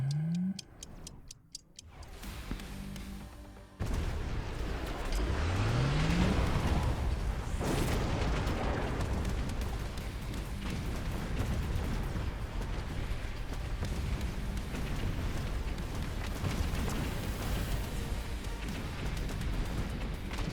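Missile strikes in the strategy game Mechabellum, with a sharp rumbling blast near the start giving way to a sustained, dense roar of battle explosions and impacts that continues steadily throughout.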